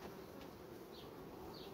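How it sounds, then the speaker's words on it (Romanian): Honey bees crowd a protein patty inside a summer hive, giving a continuous soft buzzing hum that stays faint and even, with a couple of brief higher whines from bees flying close by. "albina imediat este interesată de această turtă"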